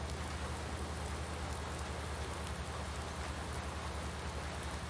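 Steady, dense rain falls in Farming Simulator 19 on a farm in the Alps, an even hiss with no talking over it.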